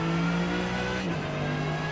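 BMW M6 GTE race car in a driving video game, its naturally aspirated engine holding a steady, loud drone with a slight pitch dip midway, continuous throughout with no talking.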